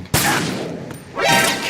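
Gunfire in Metal Gear Solid 2: a sharp, loud shot cracks out near the start, followed by a fainter report and a rising burst of noisy action, with no speech over it.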